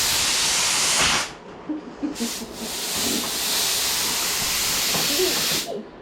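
A compressed air hose blowing in a garage during a 1962 Bel Air project, loud sustained hissing bursts that cut off abruptly and restart, close by, with faint background murmurs between blasts.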